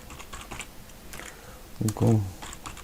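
Keys tap on a computer keyboard while data is entered into an Access table, soft scattered clicks running throughout under a brief spoken remark.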